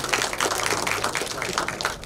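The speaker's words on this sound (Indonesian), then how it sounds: "Tepuk tangan untuk beliau semuanya" Audience applause at an Indonesian book launch, a dense, steady patter of many hands clapping at moderate loudness for about two seconds with no voices on top.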